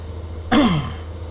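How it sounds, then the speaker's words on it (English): A single close, loud throat clearing with a short cough-like burst, about a quarter second long, set against a steady low background hum. "Sorry for my cough and clearing my throat"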